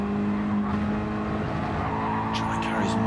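A Mazda race car in a one-make circuit race at Lago Maggiore East brakes on the way into a corner, its engine a steady loud drone with some tyre scrub under commentary.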